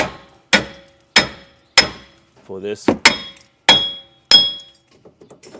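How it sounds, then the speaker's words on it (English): A hammer taps a wheel bearing out of a Ford Ranger, striking about seven sharp, ringing metallic blows at a steady pace, close and loud, with a brief spoken phrase between strikes. "Let's see if we can tap this bearing out."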